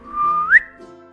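A person gives a short, clear whistle, a held steady tone that slides upward at the end, loud and close with no talking.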